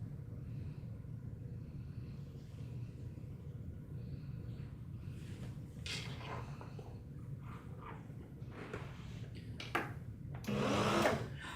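A sewing machine stitches a seam to the end with a back stitch, giving a continuous low motor hum with steady mechanical texture, quiet and close, and a brief louder whir near the end.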